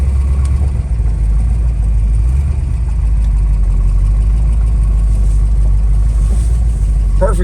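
A 1965 Mercury Comet Caliente convertible with its engine running: a loud, deep, continuous rumble held close and steady, with barely any voice over it.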